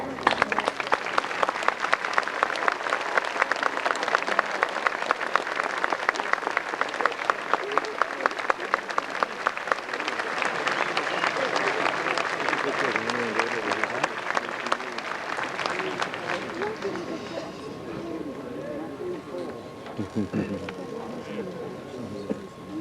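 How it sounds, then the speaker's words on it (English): Sustained applause from a large graduation ceremony audience, dense rapid clapping that holds steady, then thins and fades toward the end. "Please provide your applause with me at this moment."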